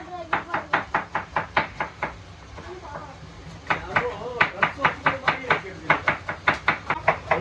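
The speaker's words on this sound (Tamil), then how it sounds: "இவ்வளோ ஸ்பீடாக வெங்காயத்தை பார்க்காம கட் பண்ணுறாங்க." A knife chops onions fast on a board, sharp evenly spaced knocks in quick bursts with a short pause, close and clear while a person talks in between.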